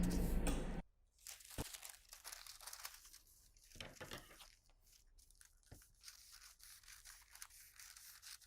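Scissors snip and rustle through folded jacket fabric, with crisp crunching cuts and crinkling handling sounds close by, quiet and intermittent after a brief louder burst at the start.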